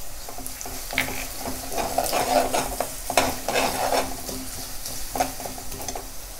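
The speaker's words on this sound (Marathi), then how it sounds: "आता शेवटी हिंग टाकायचं म्हणजे वास छान राहतो" Asafoetida goes into a hot oil tempering with cashews for upma, crackling and sizzling as a spoon stirs and scrapes the pan in uneven bursts, close and moderately loud.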